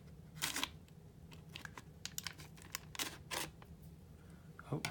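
A knife cuts open a sealed C-ration accessory packet wrapper, quiet scattered crinkling and slicing crackles of the packaging, close and faint with no talk.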